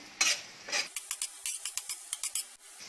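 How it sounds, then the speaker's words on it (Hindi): Chopped onions are stirred in hot oil on a flat tawa, a few scraping sweeps followed by a run of quick metallic spatula taps and a light sizzle, close and without speech. "तेल गरम हो गया, सबसे पहले इस पे प्याज डालेंगे, इसको अच्छे से स्टर करेंगे।"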